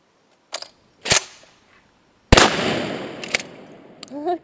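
Remington 870 Express pump-action shotgun firing outdoors, several sharp loud blasts with short gaps, one followed by a long rumbling echo and pump-action clatter.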